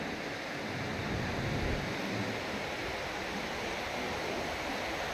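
Sea surf at a beach resort in San Juan, La Union washes in as a steady, broad wash of noise, fairly soft and continuous, with no voices heard.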